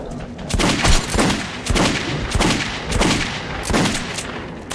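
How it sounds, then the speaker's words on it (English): Loud, rapid gunfire from Metro 2033 Redux, rattling in repeated bursts of several shots each, close and dense throughout the brief scene. "There's a lot of bullets."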